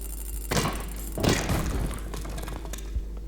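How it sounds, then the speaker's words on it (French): A grenade detonates in the co-op video game REPO, a loud thudding boom with a second heavy blast about a second later, then a rumbling tail and scattered debris-like clatter. "Grenade."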